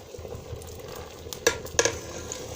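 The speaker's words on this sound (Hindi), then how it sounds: "जैसे कि आप देख सकते हैं इसमें बॉयल आ रहा है" Rice boils in a pot on the stove with a steady bubbling hiss and two sharp clicks of a spoon against the pot.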